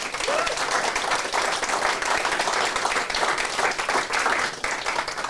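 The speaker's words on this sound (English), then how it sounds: "would you give all of our presenters one last round of applause tonight?" A live crowd at a community pitch day event gives the presenters a final round of applause, dense continuous clapping filling the room loudly from start to finish.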